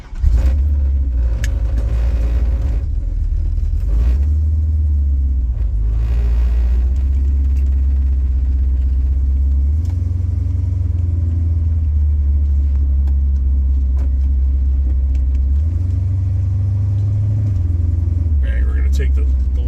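A 1969 Chrysler 300 drives along with a deep, loud engine rumble. Its pitch rises and falls repeatedly as the car speeds up and eases off. Someone speaks now and then over the drone.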